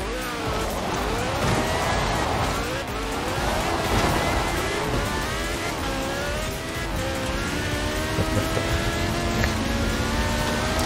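Car driving in Forza Horizon 4, engine whining and rising through gears with sweeping pitch changes, loud and continuous with a rough, noisy wash underneath.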